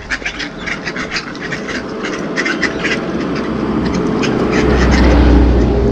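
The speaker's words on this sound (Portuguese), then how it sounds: "Mas esses patos voam, são patos do mato." Wild ducks quack by a river in a steady outdoor scene, with rapid repeated calls over continuous rushing background noise that grows louder and deeper toward the end.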